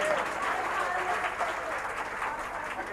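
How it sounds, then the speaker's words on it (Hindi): Audience applause at a Bhagwat Katha, a Hindu devotional recitation, as the crowd claps for the musicians: dense, sustained clapping that holds steady for the full three seconds. "एक बार हमारे संगीतकार की ताली बजा दीजिए भाव के साथ"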